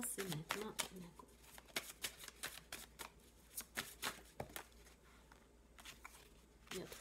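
A deck of tarot cards is cut and shuffled close by, with rapid papery riffles and slaps coming in quick, uneven bursts and short pauses between them.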